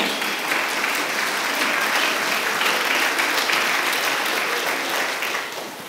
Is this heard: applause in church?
yes